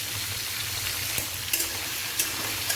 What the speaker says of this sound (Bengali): আর এখানে পটল ভাজছি।